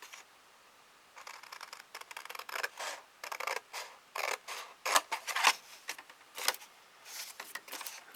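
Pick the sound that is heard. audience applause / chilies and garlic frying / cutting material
cutting material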